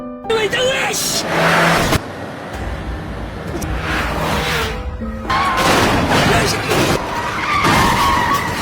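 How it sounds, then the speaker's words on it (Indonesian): Cars in a road chase, two of them squeezing another car off the road: loud tire skids and squeals with revving engines and impacts, in repeated bursts, mixed with voices. "Kemudian mobil Hana dipepet oleh dua mobil."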